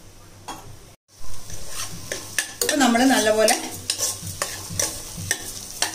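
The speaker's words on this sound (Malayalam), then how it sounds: "1/2 ഗ്ലാസ് അരിയും ഇട്ട് അത് ഒരു മിനിറ്റ് ഒന്ന് വറുത്ത് കൊടുക്കണേ" Half a glass of rice is dry-roasted in a pan for kanji and stirred with a spoon. The spoon gives a sizzling, scraping rustle with clinks against the pan, and a voice speaks briefly over it.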